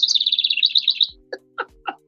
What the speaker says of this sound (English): sometimes, you know, I even got Tweety Bird